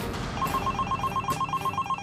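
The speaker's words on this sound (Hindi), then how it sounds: "फोन।" A telephone rings with a rapid, trilling electronic bell, repeating steadily for about two seconds with no voices.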